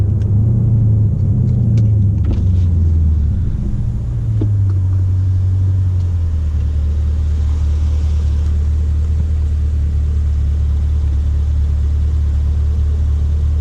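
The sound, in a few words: car hard acceleration from a standstill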